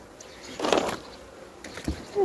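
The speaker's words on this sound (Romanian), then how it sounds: "Acum totul e plin de albine, toate lăzile." Honeybees humming around wooden hive boxes filled with bees, a soft close buzz swelling briefly near the start and fading, with faint handling noise in the background.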